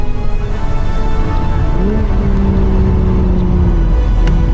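A BMW Z4 M40i, manual gearbox, with its engine droning loud and steady under road rumble inside the cabin, the pitch climbing smoothly partway through.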